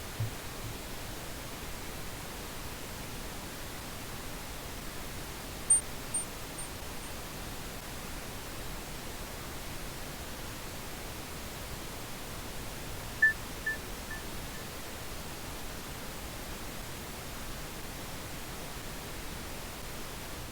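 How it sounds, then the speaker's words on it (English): A steady broadband hiss of noise runs throughout, with two brief tone bursts barely poking through, one early and one later. "we're playing the tone bursts against a background of noise"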